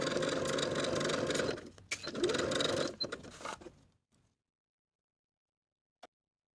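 A sewing machine runs steadily while stitching bodice darts for a ruffle-sleeved top, close and fairly quiet. It slows and stutters before stopping, followed by silence and a single faint click.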